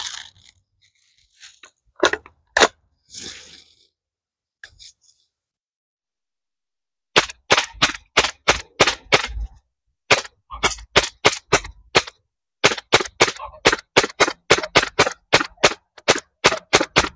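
Umarex HK416 .177 BB air rifle firing: sharp, loud snapping shots, first a few scattered ones, then rapid, evenly spaced volleys in bursts separated by short silences.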